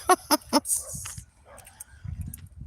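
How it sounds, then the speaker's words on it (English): A dog barks three times in quick succession up close, short sharp yaps, followed by quieter scattered sounds and low background rumble outdoors. "I'm never irritated by a dog barking at me."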